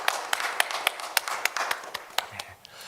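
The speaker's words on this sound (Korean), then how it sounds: "하나님께 영광의 박수 올려드리겠습니다." Church congregation at a Sunday service giving a round of clapping, a thin scattering of distinct sharp claps in loose rhythm, fairly close and moderately quiet.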